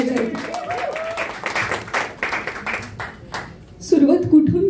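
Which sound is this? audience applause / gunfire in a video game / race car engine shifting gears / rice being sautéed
audience applause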